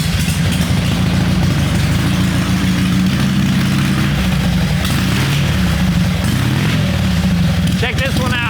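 An outlaw-style Harley-Davidson motorcycle engine rumbles loudly and continuously close by, with a deep throbbing idle, a slight rise in revs, and a voice speaking over it.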